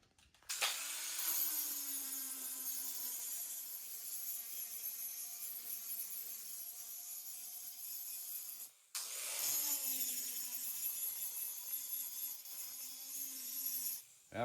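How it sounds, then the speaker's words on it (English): A hand grinder works steadily around the rim of a cast engine flywheel, a continuous harsh abrasive whine that briefly cuts out near the nine-second mark before resuming, close and loud with no talking. "I just grind this off with a hand grinder."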